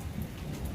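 Heavy summer storm rain pours down in a dense, steady hiss with a low thunder rumble underneath, brief and unbroken, no voices.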